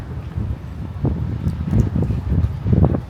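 Wind gusting outdoors around a Japanese apartment, a steady low rumble that swells and buffets in uneven surges, loud and close to the microphone, with no talking.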